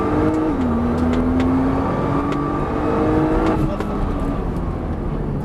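A car on a race circuit accelerates at full throttle, its engine note climbing steadily and loudly up close before a gear change near the end, with no talk over it.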